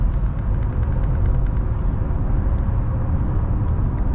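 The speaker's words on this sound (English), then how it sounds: "The road noise is actually pretty good. We're doing about 70 and you really can't hear much." Steady low road rumble and tire roar heard from inside a 2022 Honda Passport TrailSport cruising at about 70 mph on the highway, a continuous moderate drone with no talking.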